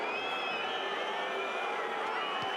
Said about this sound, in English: Crowd getting involved as well.